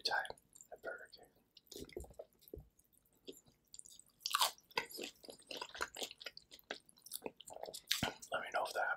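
Close, crunchy chewing and wet bites of Burger King burgers (Big King, Big Fish) and onion rings, irregular mouth sounds and smacks with quiet gaps between bites.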